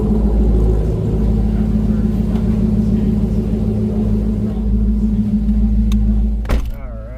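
A tuned car running on a full tank of E85 flex fuel idles with a steady, loud low rumble, close by, ending in a sharp thunk near the end.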